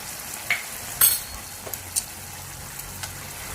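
Seasoning stirred into tofu skin simmering in tomato sauce, a faint sizzle under a few light spoon scrapes and taps against the pan.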